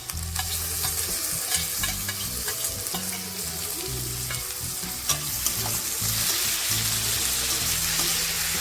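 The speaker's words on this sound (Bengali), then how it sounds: "এখন আমি কুচিয়ে রাখা টমেটোগুলোকেও দিয়ে দেব।" Chopped tomatoes hit a hot pan of dal tadka tempering with green chillies, setting off a loud, steady sizzle and frying crackle, with occasional stirring clinks throughout.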